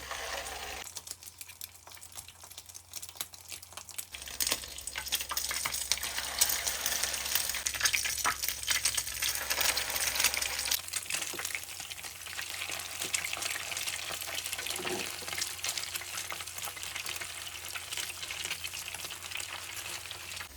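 Steady, dense sizzling of pork balls deep frying in hot oil, loud and close, with occasional stirring sounds and no voices.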